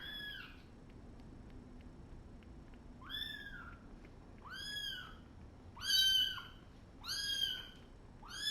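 Tiny orphan kittens give a series of thin, high, close meows, about five plaintive cries spaced roughly a second apart in a quiet room.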